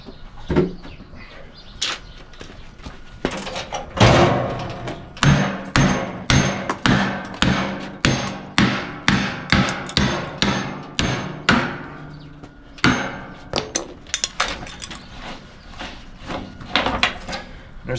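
Metal hammer blows ring out on a scrap water heater, a fast run of sharp, loud strikes in steady rhythm with a few pauses and scattered single hits between.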